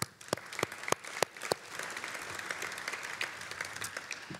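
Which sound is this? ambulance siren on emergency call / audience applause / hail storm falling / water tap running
audience applause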